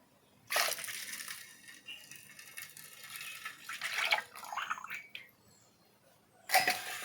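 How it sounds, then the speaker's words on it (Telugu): Colostrum milk (junnu paalu) poured into a jaggery mixture, heard as close splashing, gurgling pours in several uneven bursts separated by quieter gaps. "జున్ను పాలు అయితే పోస్తున్నాను"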